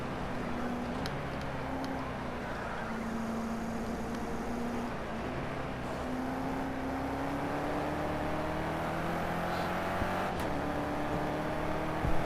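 A racing game car engine climbs steadily through its revs and shifts up at a fixed point below redline, each change stepping the pitch back down before it rises again, steady and close with no talk.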